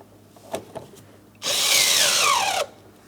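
Power drill with a socket on an extension driving an anchor bolt into a 2004-2008 Pontiac Grand Prix front door panel: a couple of soft knocks, then one loud, steady whirring burst of about a second that winds down at the end.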